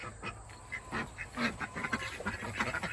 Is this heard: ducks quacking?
yes